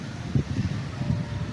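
Countryside wind in a rural farm field buffets the microphone in low, uneven rumbling gusts, close and steady for the whole moment, with no voices.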